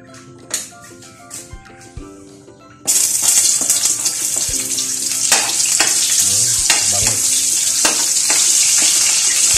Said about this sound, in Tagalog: Ngayon magigisa tayo